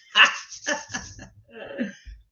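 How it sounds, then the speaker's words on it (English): Jack Russell terriers bark in a quick cluster of sharp, close yips and barks, a few overlapping bursts followed by a short pause and another pair of barks. "I love my dogs, but the barking, my God."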